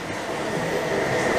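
An electric tram at Universal Studios Hollywood rolls along with a steady, dense rumble and hiss of wheels and motion, loud and continuous throughout the short moment.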